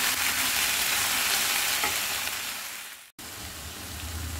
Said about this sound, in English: fry for about 5 to 6 minutes properly until the meat